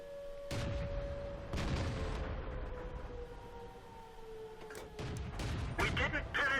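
Tank gun shots from a SARL 42 in the World of Tanks video game: a few loud, separate booms with rumbling tails, spaced irregularly over a sustained whining tone.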